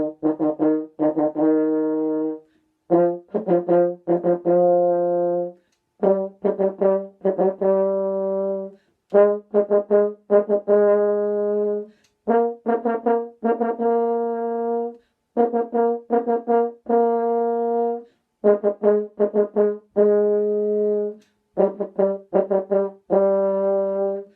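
A French horn plays a repeated exercise of short sustained notes in phrases, rising and falling, with brief pauses between groups; loud and close, no voices.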